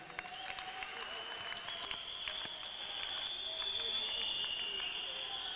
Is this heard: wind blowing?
no